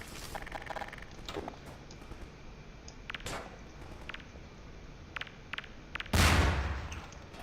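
Gunfire from recoil jumping in Half-Life 2: scattered faint sharp pops over a low background hiss, then one louder, fuller burst near the end.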